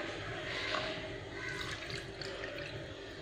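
Coconut milk pours into kinnathappam batter in a bowl, a continuous close liquid rush and splash with slight swells, no voices.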